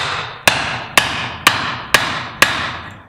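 A hammer drives a wooden wedge into the top of an axe handle: five sharp, evenly spaced strikes about half a second apart, loud and close, each ringing briefly before the next.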